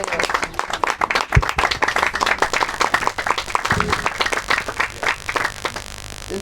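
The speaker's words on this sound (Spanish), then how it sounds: "¿Pueden dar un aplauso al Señor los que tienen su mano?" A church congregation breaks into sustained applause, dense rapid clapping from many hands filling the room, loud and continuous with a voice speaking over it.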